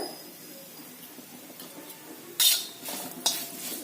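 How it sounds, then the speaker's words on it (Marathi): Green chilies sautéed with salt in a pan give a quiet, steady stirring scrape, with two sharper utensil clinks against the pan near the end. "मीठ घातल्यानंतर एखाद मिनिट परतायचं"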